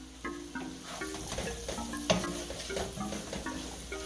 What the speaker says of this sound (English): And I'm stirring that in so I don't have any lumps